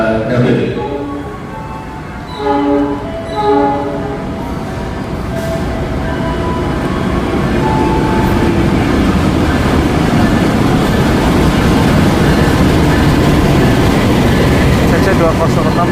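A CC 206 diesel locomotive rumbles past at a busy station with a deep, steadily building roar. Short horn-like tones sound near the start.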